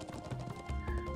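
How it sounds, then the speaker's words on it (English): Horse galloping in the video game Trails of Cold Steel 3, quick rhythmic clip-clop hoofbeats, close and clear over faint game sounds. "meant to deploy my horse"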